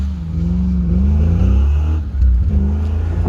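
An autocross race car accelerates out onto the course, its engine a loud, close, rising drone with audible revs and a brief dip around a gear change, alone without speech.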